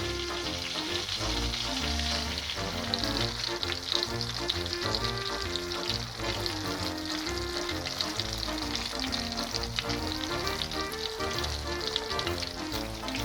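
A breaded beef Milanese cutlet fries in a pan with a continuous sizzle beneath steady background music, with no talking.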